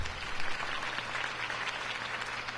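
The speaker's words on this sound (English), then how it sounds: "If only Mr. Wayne, my campaign's largest backer, could have heard that applause" A crowd applauds a campaign speech in the Batman Telltale video game, a dense, even wash of clapping heard at a distance with no voices.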